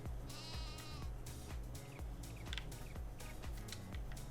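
Sheep in a Farming Simulator 22 pen bleat repeatedly, with several overlapping calls over a rhythmic low thumping background, heard fairly faint and without speech.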